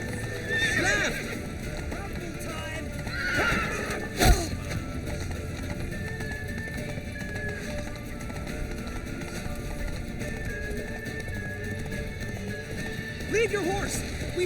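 Horses clip-clop at a gallop with a neigh or two, under shouting voices and game-like background sound throughout, in the video game The Witcher 3: Wild Hunt.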